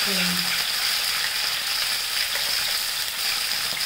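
Peanuts and cumin seeds fry in hot oil in a pan, giving a loud, steady, crackling sizzle that runs without a break.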